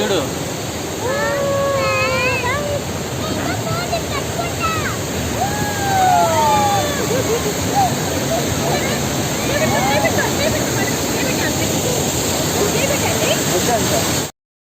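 Water crashing down at Hogenakkal waterfalls fills the scene with a loud, continuous roar, and several people speak and call out above it before it cuts off abruptly.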